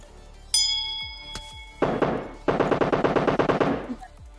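Gunfire in a video game: a ringing metallic ping, then a single sharp burst, followed by a long rapid rattling string of shots, loud and close, with no talk.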